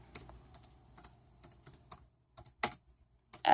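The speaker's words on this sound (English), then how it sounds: "now if I type this in Wolfram Alpha" Someone types on a computer keyboard into Wolfram Alpha, a close, irregular run of key clicks in short bursts with brief pauses, ending on a louder cluster of strokes.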